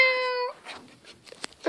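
A voice imitates a cat's meow in a short, clear, tonal cry lasting about half a second, followed by faint scattered clicks and soft noises.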